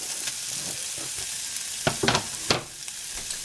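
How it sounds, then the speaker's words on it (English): Mushrooms sautéing in a pan for a vegan cheesesteak give a steady close sizzle, with a few sharper clatters of stirring utensils against the pan toward the end. "I'm going to continue sauteing until the mushrooms are soft"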